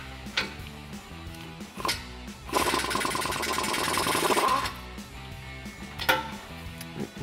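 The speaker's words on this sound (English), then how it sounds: "all you need is a 15 millimeter socket to take these guys off" Socket wrench loosening 15 mm studded exhaust nuts on a 2019-2023 RAM 1500 during an MBRP dual exhaust install, with scattered metallic clicks and a sustained ratcheting burst in the middle, close by with no talk.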